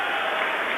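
Brief, dense roar of a basketball crowd cheering and clapping at the Crowley Center during a high school game, a steady wash of applause with no pauses.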